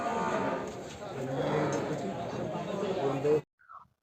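Buffaloes at the Erragadda livestock market in Hyderabad low with drawn-out, moderately close moos that run almost continuously, over a faint crowd murmur. They cut off abruptly, leaving a brief fainter tail.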